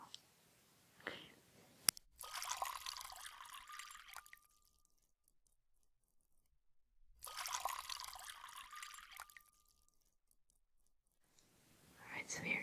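Water is poured and trickled for a spa foot soak, coming in two soft, close bursts of a few seconds each, with quiet whispering before and after.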